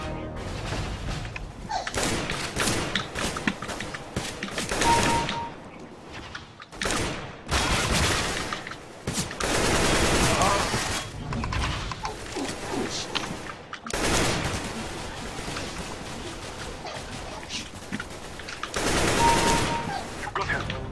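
Gunfire in a first-person shooter video game comes in repeated bursts and volleys of rapid shots with thumps between them, loud and close, and occasional game voices sound faintly beneath.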